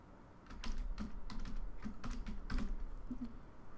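Close, steady typing on a computer keyboard while entering a project name, heard as quick clusters of soft clicking keystrokes over a faint background hum, with no voices.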